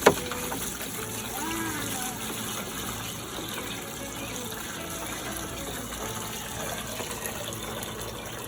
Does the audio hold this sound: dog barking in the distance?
no